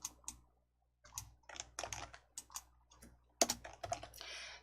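Typing on a computer keyboard comes in close, crisp bursts of rapid key clicks with short pauses between runs and a brief silent gap early on, no voices present.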